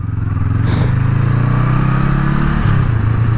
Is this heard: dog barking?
no